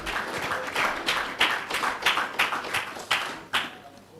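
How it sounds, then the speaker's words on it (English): Scattered audience clapping at a media company showcase, with distinct hand claps in an uneven rhythm, some louder bursts standing out, moderately close in a room with no talking. "Please put your hands together for Tosi Obimbe as well, who's here."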